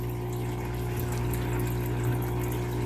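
SOBO SB-248A aquarium air pump oxygenator running at its higher setting, giving a steady, close electrical hum with a faint bubbling wash, unbroken and alone for the whole stretch.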